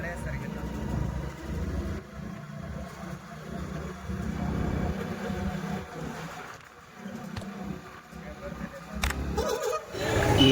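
A lorry drives along a road near Hospet, its continuous engine rumble mixed with wind and road noise as it travels close by, while a voice talks over it.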